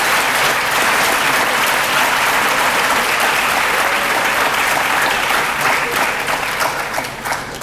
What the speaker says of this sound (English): Please give all these honorees a round of applause